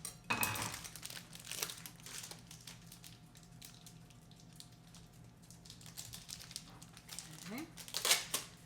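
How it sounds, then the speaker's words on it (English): Tin foil crumpled and pressed over a dish of food, sharp close crinkling bursts at the start and the end with quieter rustling and pan handling between, and light talking in a kitchen. "We're gonna cover it with some tin foil."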